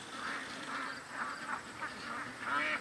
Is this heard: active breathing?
no